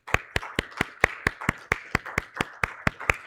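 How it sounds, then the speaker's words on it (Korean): A church congregation claps in welcome with a steady, even rhythm of about fourteen crisp claps in just over three seconds, fairly close and with no voices. "우리 같이 한번 환영의 박수 하시겠습니다."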